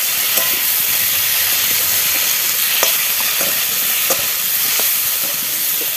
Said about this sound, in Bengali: এই যে দেখুন মশলা দিয়ে ভাজা হবে, লবণ হলুদ সব দেবে